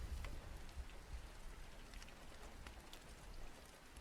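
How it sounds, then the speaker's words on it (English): Rain from a thunderstorm falls steadily and softly, a faint continuous patter of drops on a surface with a low rumbling undertone and no voices. "You just kind of want to listen to the rain?"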